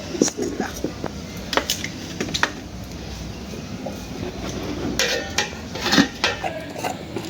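A metal kadai is set on a home kitchen stove for frying fish, with clattering knocks and scrapes of cookware over a steady background hum, loudest in short clusters, while someone talks nearby.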